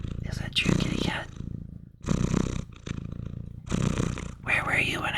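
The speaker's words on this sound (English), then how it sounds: "Let me see if I can't get him to purr into the microphone for me." Close-miked purring from a pet cat, a deep rumble that swells in rhythmic bursts about every second and a half with each breath, steady and intimate, with a soft voice murmuring alongside it.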